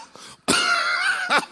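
A man imitates a cough with his voice, one long rasping hacking burst followed by a shorter second cough, loud and close, with no other talk.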